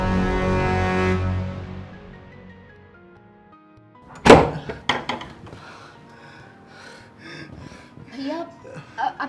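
A heavy thud on a locked door rings out once mid-clip, followed by a few softer knocks, with voices talking before and after.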